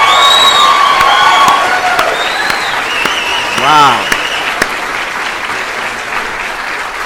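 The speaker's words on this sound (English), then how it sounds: "Give it a round of applause," Loud, sustained crowd cheering and applause for Bitcoin hitting 10,000, with whoops over steady clapping for several seconds before it thins, and a voice briefly exclaiming over it.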